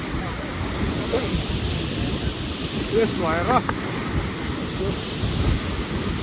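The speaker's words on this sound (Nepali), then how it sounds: "म्याग्दी कटेक्सी झर्नामा आइपुगेका छौँ" Steady broad rush of a waterfall in Myagdi, Nepal, loud and constant throughout with some wind buffeting on the microphone, while someone talks briefly over it.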